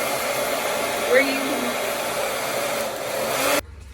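A hair dryer blows with a steady, close whooshing hum for several seconds, then cuts off abruptly; a brief word is spoken over it. The dryer blows air across sand in a soil erosion demonstration.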